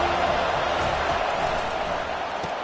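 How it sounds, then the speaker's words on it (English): A college football stadium crowd roars at a steady, dense level throughout, a broad wash of massed voices and noise with no single clear shout standing out. "This crowd trying to make life miserable for this offense."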